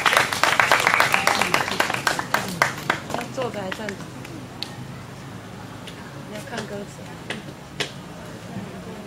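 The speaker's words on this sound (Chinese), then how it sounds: "那我们先掌声欢迎林杰上台。" Audience applause greeting a singer-songwriter as she takes the stage at a live music show, a loud burst of dense clapping that fades to scattered claps within a few seconds.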